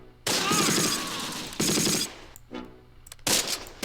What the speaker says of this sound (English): We've got a nice little MG-42 action there.